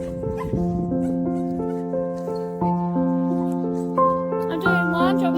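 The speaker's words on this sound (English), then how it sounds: "Crazy dog." A dog barks and whimpers in high-pitched, tonal yips and whines that rise and fall across the clip, fairly close and loud, with people's voices faintly mixed in.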